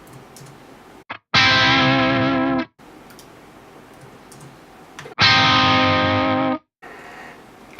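An electric guitar runs through a Fractal AX8 pitch block set to a major third harmony, sounding two loud, sustained, distorted chords that each ring about a second and a half, separated by quieter gaps.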